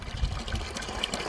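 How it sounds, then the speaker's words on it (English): Gravity-fed water pouring steadily from a hydrant spigot, a continuous low gushing wash with soft splashing, close and fairly quiet, no talking. "I'm going to show you this hydrant here and how the water comes out."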